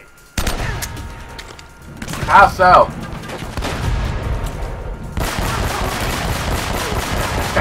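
Rapid gunfire from Uncharted: Drake's Fortune, with bursts of shots and dense battle noise rolling through the clip, while a voice speaks briefly and a melodic tone rises in the middle.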